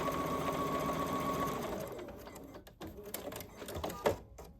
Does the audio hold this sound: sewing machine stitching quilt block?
yes